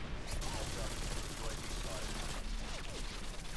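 Rapid automatic gunfire from a high fire rate gun in Modern Warfare 2, a dense continuous rattle running throughout at moderate distance, mixed with game noise.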